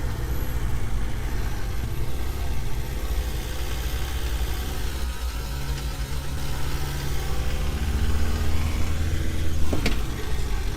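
A car towing a trailer drives along steadily, its engine and road noise forming a loud, continuous rumble that fills the whole stretch with no talk over it.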